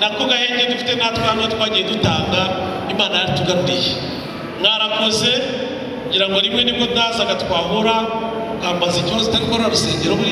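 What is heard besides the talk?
No everyday noises stand out.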